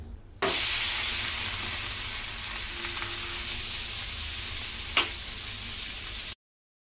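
A thalipeeth flatbread of roasted multigrain fasting flour fries on a hot pan with a steady, close sizzle and hiss, plus a brief scrape partway through, then stops abruptly.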